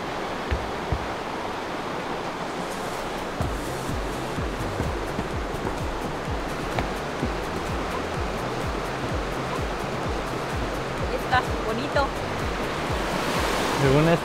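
Burney Falls in Northern California roars steadily at night as a dense, continuous rush of falling water that holds at an even level throughout, with no one talking over it.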